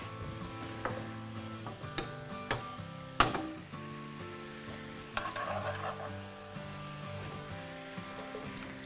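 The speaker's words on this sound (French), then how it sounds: "Avec ma spatule en bois, je vais décoller les sucs. Et je laisse cuire quelques minutes." A wooden spatula scrapes browned juices from the bottom of a pan while filet mignon cooks, giving a continuous soft sizzle with intermittent scraping strokes and a few sharper clinks, alone and fairly quiet.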